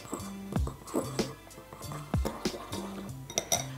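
A utensil stirs and clinks against a small bowl while homemade mascara ingredients are mixed, giving repeated close, light taps and scrapes in a loose rhythm.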